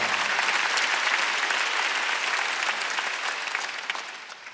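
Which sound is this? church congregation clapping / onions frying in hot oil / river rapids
church congregation clapping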